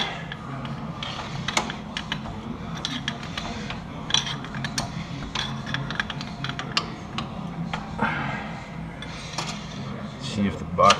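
A wrench clicks and ratchets on a wheel stud nut of a 1999 Jeep Wrangler Sahara, with a broken stud being replaced. Quick, close metallic ticks and creaks come in uneven bursts while someone talks.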